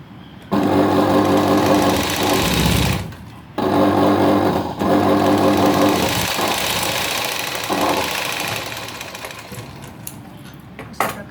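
A sewing machine stitches a yoke strip onto a lined blouse, loud close rapid mechanical whirring in long runs broken by brief pauses and slowing toward the end, with no talk.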